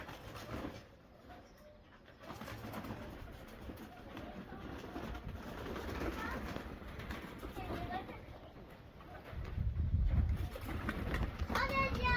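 Soft cooing of Nikolaev pigeons mixed with shuffling and background noise, with people talking nearby throughout.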